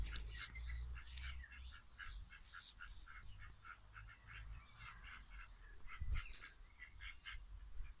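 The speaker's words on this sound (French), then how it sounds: "Alors les canards en passant." Several ducks quack repeatedly in a steady chatter, with a louder honk near the end, over a low outdoor rumble.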